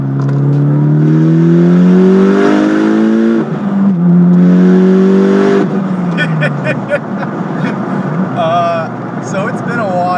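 A 500whp Mitsubishi Evo X with Stage 3 tuning pulls hard at wide open throttle, the engine note climbing steadily, dipping at a shift, then rising again loud and close from inside the cabin.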